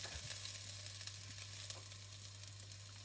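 Prawns and garlic stir-fried for char kway teow give off a constant close sizzle with occasional scraping and stirring noises over a low steady hum, and no one speaks.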